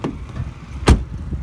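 Door lock actuator on a Ford Mondeo MK3 TDCI firing once, a sharp mechanical clunk near the middle of a quiet stretch of faint background noise.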